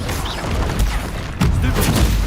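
A Bombarda spell explosion in the video game Hogwarts Legacy, loud dense bursts of blast noise, with a sharp second impact midway and rumbling debris underneath.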